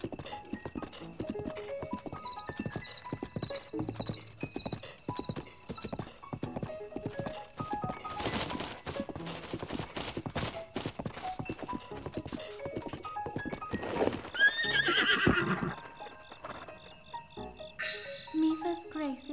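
A horse gallops in The Legend of Zelda: Breath of the Wild, its rhythmic hoofbeats running throughout with a brief neigh and other game sound effects layered over it.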